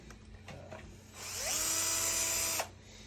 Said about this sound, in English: Wouldn't recommend using a drill, but I'm going to do it.